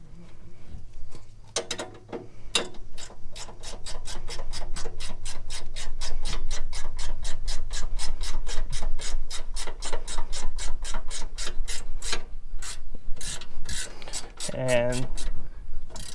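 A wrench ratchets in fast, even clicks while tightening a bolt on a Husqvarna mower's drive belt assembly, a long close-up series with brief pauses.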